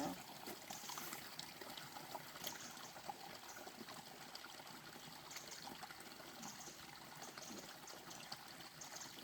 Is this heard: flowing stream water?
yes